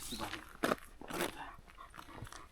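A dog in Croatia gives a couple of short, rough barks and huffs at fairly close range over a faint outdoor background.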